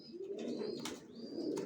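Racing pigeons coo in a loft, a close, warm, rolling low call that swells and repeats, with a few faint chirps over it.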